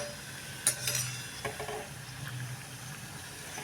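Semolina shankarpali frying in hot oil and being stirred nonstop, a soft continuous bubbling sizzle with a few light clinks of the spoon against the pan, close and fairly quiet.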